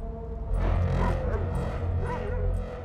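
A dog in the video game Grand Theft Auto 5 gives a few close yips and bow-wow barks over a low, steady background rumble.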